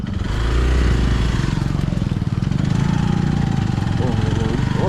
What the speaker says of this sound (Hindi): कीचड़ में फंस गई है बाइक